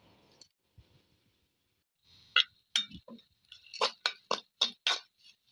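Cashew nuts drop into a cooking pan with browned onions for ghee rice, making a quick run of sharp clinks and clicks that speed into a rapid cluster toward the end. A few quiet taps come first, with no talk.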